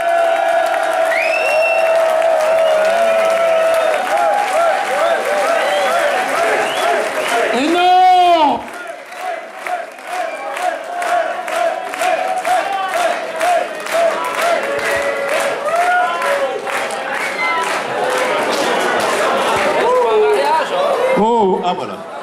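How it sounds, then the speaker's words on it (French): A crowd at the Rock en l'Aire festival in Perly-Certoux applauds and cheers, with whoops and chatter mixed in, while people talk over the clapping throughout. "je veux juste un énorme applaudissement pour les deux"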